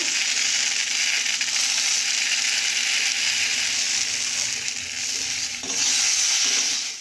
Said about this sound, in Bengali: আলুগুলো ভেজে নেবে প্রথমে